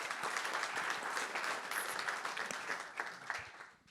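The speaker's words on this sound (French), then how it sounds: "On peut également t'applaudir pour ce témoignage." Audience applause at an innovation and transition event, with continuous dense clapping that thins out and fades toward the end; it is fairly quiet overall.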